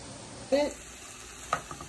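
Shrimp and vegetables in a stir fry sizzle with a steady, soft frying hiss, with a couple of brief clinks and scrapes from stirring, close and fairly quiet.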